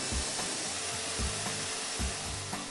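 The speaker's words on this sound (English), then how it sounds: "Trim the ends of the blank with a barrel trimmer." A barrel trimmer cuts across the ends of a wooden pen blank fitted with a glued-in brass tube, giving a steady, close grinding whir with soft periodic scraping pulses roughly every second, no voices.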